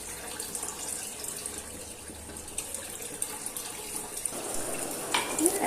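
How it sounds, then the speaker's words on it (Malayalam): Water runs steadily into a pressure cooker holding jackfruit for kadachakka ada, a soft continuous splashing stream nearby that grows slightly fuller toward the end. "കുറച്ച് വെള്ളം, അതായത് അതൊന്ന് വേവാൻ പാകത്തിൽ കുറച്ച് വെള്ളം ഒഴിക്കുക."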